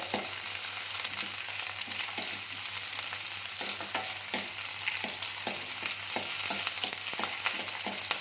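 Tomato and onion sizzle steadily in hot oil in a pan while making an okra huli, a dense continuous frying crackle with scattered stirring clicks and no voices.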